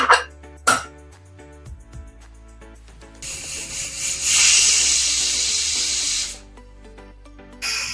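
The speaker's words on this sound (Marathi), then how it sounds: "छान दोन कुकरच्या शिट्ट्या करून घ्यायच्या आहेत" A pressure cooker cooking dal with fenugreek greens lets out a loud, sustained steam whistle and hiss lasting about three seconds, with soft background music and a few sharp knocks around it.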